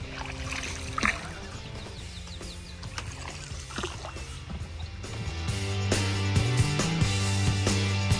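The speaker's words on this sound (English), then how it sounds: "We are running on this boat now, following a small trail of water." A rented boat moves along a narrow channel of water in India, giving a steady churning drone with light sloshing and splashes. The sound grows fuller and louder toward the end.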